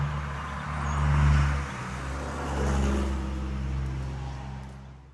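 A car driving on a long early-morning road trip, with a steady low engine and road rumble that swells and eases as it accelerates, close and continuous with no talk.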